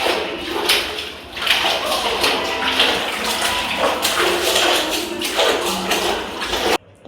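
Clothes are washed by hand in a bucket, with repeated splashing, sloshing and slapping of wet fabric close by, continuing steadily before a brief pause.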